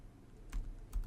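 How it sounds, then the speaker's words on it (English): Keys tapped on a computer keyboard while entering an Ansible playbook command: a few soft, separate keystrokes, quiet and close, with no talking. "I will type in Ansible -playbook, and I'll type in apache.yaml."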